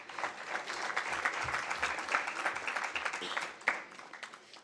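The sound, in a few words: audience applause at memorial lecture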